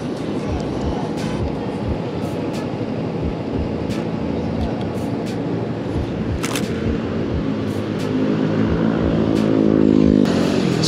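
Dense traffic of scooters and motorcycles on a busy Manila street forms a continuous, loud rumble of engines, swelling slightly toward the end with no voices over it.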